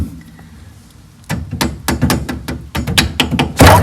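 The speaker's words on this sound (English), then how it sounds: "Let's tap it with the hammer and see if that does anything." A run of about ten sharp, dull knocks from a soft hammer tapping an old starter motor on a Porsche 914, uneven in spacing, each close and fairly loud after a brief quiet start.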